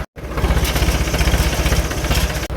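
A tractor engine runs on a farm during silage bag filling, a loud, close, steady throbbing idle with a regular pulsing beat that briefly cuts out at the start and near the end.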